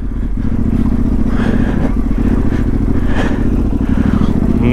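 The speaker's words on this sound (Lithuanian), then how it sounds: "čia tėtų motociklas" A motorcycle riding a trail section of the Trans Euro Trail in Lithuania, its engine droning loud and steady close by throughout, with occasional clattering bumps over the rough ground.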